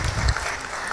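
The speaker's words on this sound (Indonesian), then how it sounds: "Bapak boleh berikan tepuk tangannya sekali lagi" Audience applause at a talk event about job hunting, a brief, dense burst of clapping at moderate level with no talking over it.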